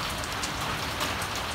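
Heavy rain blows in under cover, a dense, steady, loud hiss of drops striking surfaces with no voices and no breaks.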